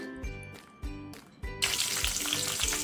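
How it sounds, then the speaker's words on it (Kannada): Garlic, green chillies, curry leaves and crushed mustard seeds frying in hot oil, with a few rhythmic stirring strokes before the sizzle swells into a loud, dense crackle that continues to the end; no speech. "ಎಣ್ಣೆ ಹಾಕಿ ಸಾಸಿವೆ ಜಿಜ್ಜಿಟ್ಕೊಂಡಿರೋಂಥ ಬೆಳ್ಳುಳ್ಳಿ ಹಾಗೂ ಹಸಿಮೆಣಸಿನ್ಕಾಯಿ ಕರ್ಬೇವು ಹಾಕ್ಕೊಂಡು ಫ್ರೈ ಮಾಡ್ಕೊತಾ ಇದ್ದೀನಿ"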